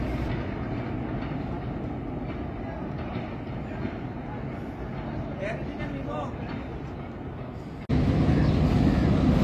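Trains shunting at Rawalpindi railway station in the evening, heard from a footbridge as a continuous loud rumble and clatter of moving rail cars, with voices faint in the background and a sudden louder surge near the end.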